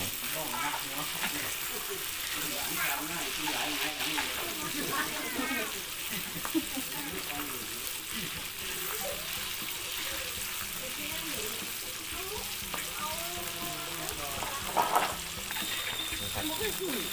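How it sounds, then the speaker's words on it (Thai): Grasshoppers deep-frying with pandan leaves in a big oil pan at a Rong Kluea market stall, a steady dense sizzle and bubbling with occasional stirring, while voices talk over it throughout. "เวลาเราทอดก็ต้องใส่ใบเตยแบบนี้เราทอดกินกันเองนะครับ"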